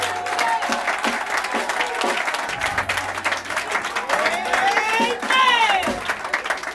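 A church congregation applauds and cheers for the king of kings, steady sustained clapping from a crowd, fairly loud and continuous, with voices calling out over it.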